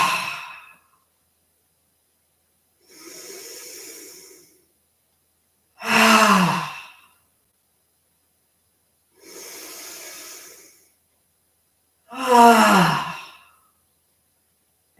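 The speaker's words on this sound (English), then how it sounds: "we take 3 cleansing vocalized breaths. We'll vocalize on the exhale." Five slow, audible exhaled breaths during a yoga breathing exercise, alternating softer airy sighs with louder voiced exhales that carry a hum-like tone, each separated by a few seconds of silence.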